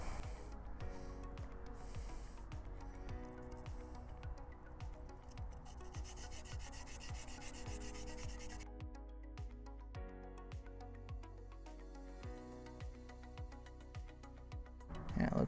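Steady back-and-forth rubbing of a stone being polished by hand without lapidary tools, a continuous close scraping texture with regular strokes throughout.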